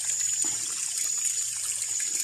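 Cold spring water from underground flows steadily out of a small cave in a forest, a close, continuous rushing and splashing with no pauses.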